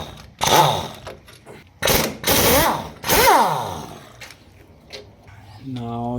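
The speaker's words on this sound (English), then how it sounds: "This is a 32mm socket on the air gun." A pneumatic impact gun fitted with a 32mm socket hammers at a Ford Figo's large wheel hub nut in three loud, close, rattling bursts. A voice is briefly heard at the end.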